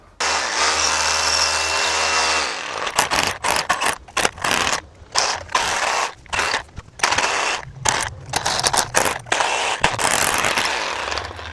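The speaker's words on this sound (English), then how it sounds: "Plan B, bigger drill." A larger power drill bores a hole into a wall in short, stop-start bursts of whirring and scraping with brief pauses between them, close and fairly loud.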